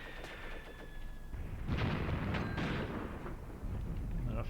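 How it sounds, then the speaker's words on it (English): Mortar fire in the war game Graviteam Tactics, heard as distant low booms and rumbling blasts over a steady battlefield background, with a tonal whine fading early on. "Yes, I think a mortar here from what it sounds like"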